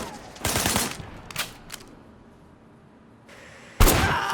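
Gunshots in Sleeping Dogs come in sharp, loud bursts: a longer volley, two quick shots, then a final heavy blast after a quieter gap.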